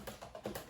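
Quick, light keystrokes on a Corsair mechanical gaming keyboard, about half a dozen close, faint clicks in under a second.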